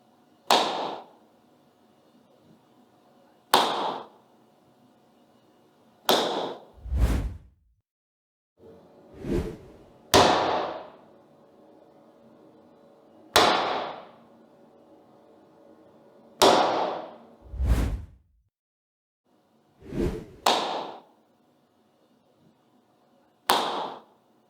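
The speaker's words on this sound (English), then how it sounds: "a quick clap test to show you guys at home, as best as we can, the difference that it's made" Single hand claps echo in a school classroom fitted with acoustic wall panels: about a dozen sharp, isolated claps spaced a couple of seconds apart, each with a short decaying room tail, picked up by a room microphone with no talking.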